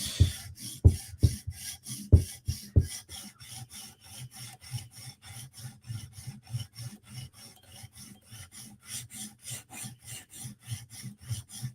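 A Tanto M4 PM2 knife edge being sharpened, quiet rhythmic rasping strokes at close range, a few sharper scrapes early on, then a steady even back-and-forth sweeping pattern with no talk.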